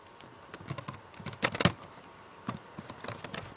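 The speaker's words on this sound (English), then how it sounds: "I hate typing with one hand." Quiet one-handed typing on a computer keyboard, sparse irregular key clicks with a brief flurry of taps in the middle, close and soft with no talking.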